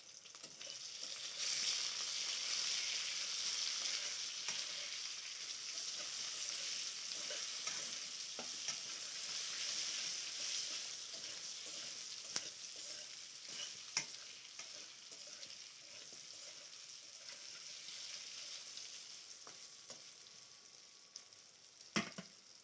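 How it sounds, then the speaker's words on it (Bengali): Eggplant with turmeric and salt fries in a pan, a steady soft sizzle running throughout while a utensil stirs it in occasional scraping knocks, with no talk. "হলুদের গুঁড়া দিমু একটু, লবণ, একটু লাড়িয়ে নিমু, একটু ভালো করে লাড়িয়ে নিমু।"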